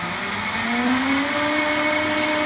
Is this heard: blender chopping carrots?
yes